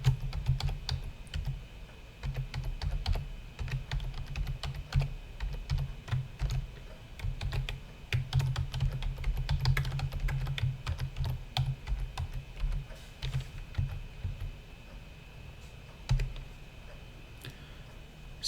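Typing code on a computer keyboard, with steady quiet clicking keystrokes in irregular bursts, close and soft, no voice.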